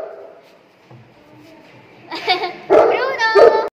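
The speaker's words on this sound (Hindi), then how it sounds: "कितना भौंकता है तू, क्यों भौंक रहा है इतना?" A pet dog barks and yips insistently at a familiar visitor indoors, loud and close, with a few sharp barks overlapping a person talking to it.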